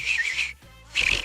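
A fingerless whistle made with the mouth alone, in two bright, steady bursts separated by a short quiet gap, close and clear with no talking.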